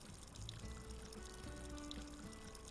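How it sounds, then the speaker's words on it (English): A garden faucet in Animal Crossing: New Horizons pours a steady, faint trickle of water, continuous and unbroken beneath a soft background. "Just listening to the little pitter patter of the water gives me the serotonin that I need."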